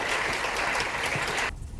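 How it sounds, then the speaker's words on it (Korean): Audience applause welcoming Han Dong-hoon as first speaker at a 2025 university student debate event, a dense burst of clapping that stops abruptly near the end. "한동훈 대표님을 큰 박수로 맞으시기 바랍니다."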